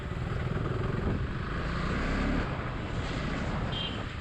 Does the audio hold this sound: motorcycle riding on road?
yes